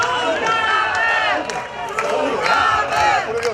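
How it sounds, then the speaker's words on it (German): A crowd at a Cologne summer festival cheers and shouts loudly and continuously, with whoops and some clapping mixed into the sustained roar, close and dense throughout. "Das ist euer Applaus."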